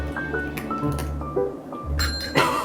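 A cat strikes a small bell set on the floor, producing several quick, light metallic tings and one brighter ring near the end, close by and without speech.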